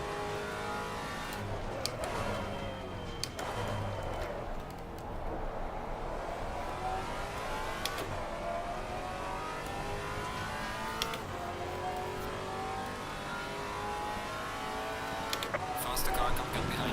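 Race car engines from the Maserati MC GT4 in the racing game Assetto Corsa Competizione at Kyalami, a steady droning engine note with gear changes and other cars around, heard under someone talking throughout.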